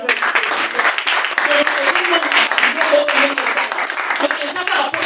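A church congregation at a praise and worship service applauds loudly and continuously, a dense, steady wash of clapping that fills the whole clip.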